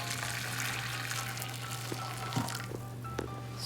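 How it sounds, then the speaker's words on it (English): Boiling water is poured into a larger baking pan as a water bath for a Japanese jiggly cheesecake, a steady close splashing and trickling pour with a faint hum beneath and small clinks near the end. "I'm just gonna add this boiling water that I have."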